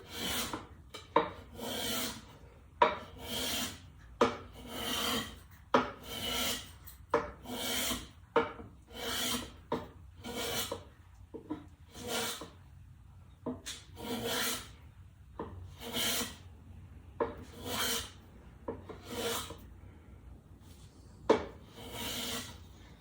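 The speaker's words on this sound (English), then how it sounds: "Now that has been planed right down to the correct angle." Hand plane shaving a wooden guitar headstock to angle, a steady series of rhythmic rasping strokes, each a short scrape separated by brief pauses, close and clear with no talking.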